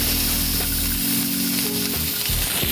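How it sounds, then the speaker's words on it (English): Bacon-wrapped bratwurst sizzles and crackles steadily in a frying pan, a close, continuous hiss with occasional small pops. "we're going to wrap the bacon around the bratwurst, and then we'll get it frying up"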